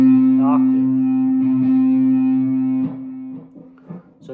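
A guitar sounds a C and the C an octave above together, a sustained, slightly distorted tone that rings for nearly three seconds before fading into quieter plucked notes.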